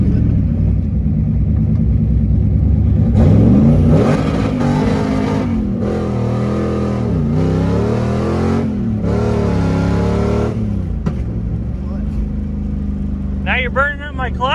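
A Ford Mustang with a T5 manual transmission is floored hard, its engine climbing through loud rising revs, dipping for a gear change and climbing again, close and continuous, while people talk in the car over the roar.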